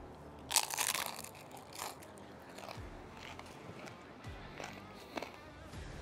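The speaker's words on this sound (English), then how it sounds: "Got the microphone close right here, so you guys can hear the crunch." An air-fried chicken taquito from a Ninja Woodfire grill is bitten close to the mic, a sharp crisp crunch followed by quieter scattered chewing crunches.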